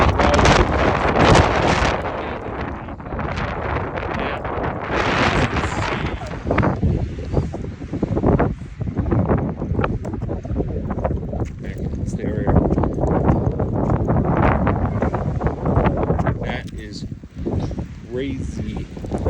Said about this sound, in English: It is so windy, it's unreal.